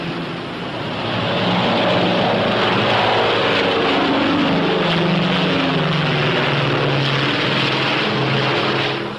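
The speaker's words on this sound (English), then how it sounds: "the P-61A takes off like a homesick angel" P-61 Black Widow propeller engines roar loud and steady as the aircraft takes off, a dense continuous drone rising and holding with a slight pitch sweep.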